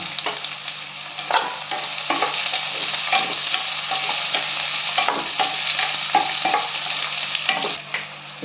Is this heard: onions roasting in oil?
yes